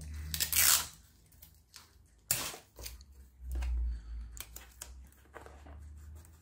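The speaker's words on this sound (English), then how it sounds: "One thing I will do is I'll tape that shut." Strips of tape are ripped off to seal a cardboard box on a homemade rubber band car, giving several sharp tearing bursts with crackly pauses between, close and loud, with no talking.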